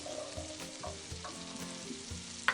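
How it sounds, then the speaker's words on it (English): Green and red peppers sizzle in hot oil for lasagne, a constant close fry with a few soft knocks and a bright clatter at the end, quiet and without talk. "All right, we're going to add our peppers,"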